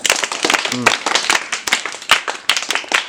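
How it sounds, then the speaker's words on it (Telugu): A classroom of students claps together after a general knowledge quiz answer, a dense burst of many hands filling the whole moment, loud and close with a voice briefly heard amid it. "వెరీ గుడ్ క్లాప్స్ కొట్టండి"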